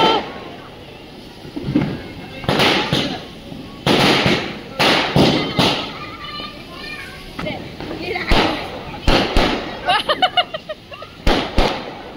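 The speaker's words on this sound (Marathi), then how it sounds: "यार फटाके नका फोडू." Diwali firecrackers burst in a string of sharp, loud cracks and pops, some close and some further off, with crackling bursts between them and voices talking in the background.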